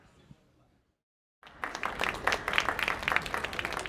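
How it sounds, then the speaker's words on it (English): After near silence, an audience breaks into steady applause, many hands clapping together at a moderate volume. "you don't have to clap. It's appreciated, but not necessary."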